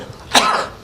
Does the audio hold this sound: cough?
yes